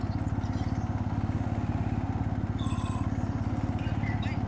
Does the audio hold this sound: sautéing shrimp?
no